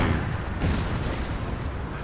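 Cannon artillery fire in Napoleon: Total War, low rumbling booms rolling one into another in a dense, continuous barrage of distant guns with no talking.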